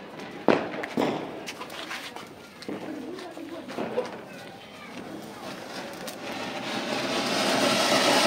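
Firecrackers set off on a Diwali night, two sharp bangs close together early, then scattered pops and crackling with a rising hiss toward the end, with voices chattering around them.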